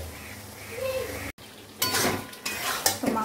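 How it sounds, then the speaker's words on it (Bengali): Spice masala for a meat gravy is fried and stirred in a pan, giving clinking utensil scrapes and a sizzling hiss, broken by a brief silent gap before louder frying and stirring resume. "মশলাটাকে আগে কষিয়ে নিই ভালো করে"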